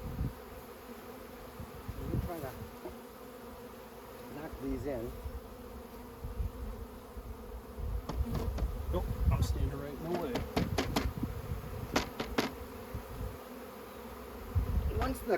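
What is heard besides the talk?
honey bees buzzing around a hive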